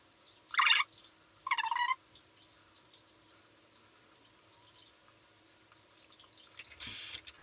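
Tap water runs briefly into a sink to wet fingers during a face mask routine, in two short bursts with a third near the end, close and fairly loud against a quiet room.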